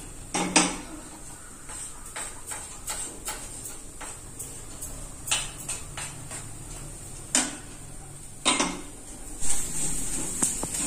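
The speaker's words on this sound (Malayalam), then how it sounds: "ഒരു ബ്രൗൺ ഷെയ്ഡ് ആവുന്നത് വരെ നമ്മൾ ഇങ്ങനെ ഇളക്കി കൊടുത്തുകൊണ്ടേയിരിക്കണം." Lentils roasting in ghee in a pan are stirred with a spoon, giving a run of irregular metallic clinks and scrapes against the pan, some sharper and louder, over a low steady background hiss.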